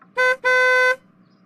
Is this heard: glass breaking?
no